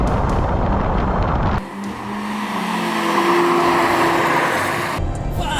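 Turbocharged 1500cc cars, a tenth-generation Honda Civic Turbo FK4 and an HR-V RS, drag racing: engine roar surges, drops briefly, then a far, droning pass of rising revs carries across the strip.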